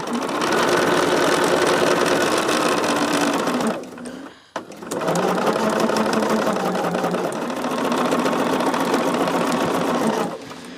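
A domestic sewing machine stitching strips of a jelly roll quilt, a loud steady motor whir running for several seconds, a brief pause, then resuming at a steady pace, with no voices.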